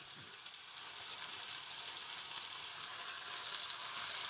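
Chopped Basella leaves fry in a pan with a steady, close sizzle and crackle that holds evenly throughout, with no voices.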